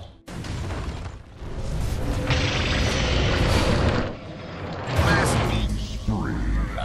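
Tower destruction in a Dota 2 match, heard as a loud rumbling crash and booming collapse with mechanical debris that swells, dips and surges again, with game effects layered over it.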